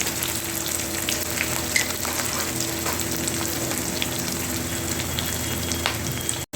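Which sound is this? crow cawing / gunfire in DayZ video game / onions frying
onions frying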